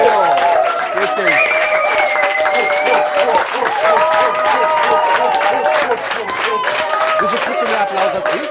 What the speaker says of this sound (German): Wieso kriegst du mehr Applaus als ich?